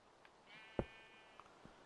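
A sheep in Minecraft gives one short bleat, clear but faint, over a quiet background hum.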